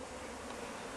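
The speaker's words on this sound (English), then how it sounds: "So you can see the bees now, pretty much everybody's evacuated out of the package cage." Honey bees buzz around a Langstroth hive shortly after a package installation, a soft, dense continuous hum of many wings, faint and steady, with no talking.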